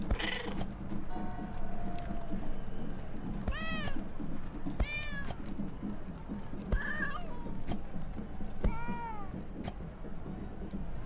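Several cats meow in the video game Please, Touch the Artwork 2, short rising and falling calls spaced every second or so over a light background bed, clear and close with no talk.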